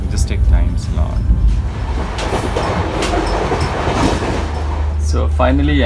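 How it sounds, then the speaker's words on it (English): An Indian AC first class passenger train rumbles steadily along the rails toward New Delhi, a continuous low clatter heard from inside the carriage, with a voice briefly audible near the end. "sitting in train and going to the next destination"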